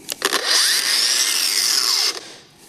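A Fein CCG 18-125 BL cordless angle grinder spins up smoothly under soft start after a few clicks, holds a loud whining hum for about two seconds, then cuts off.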